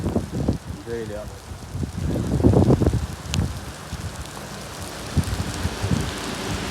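Sudden night rain comes down as a soft, steady patter on surfaces, while people talk over it close by.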